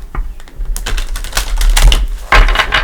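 Rapid papery riffling and soft slapping of tarot cards being shuffled, close and fairly loud, with a sharper flurry near the end.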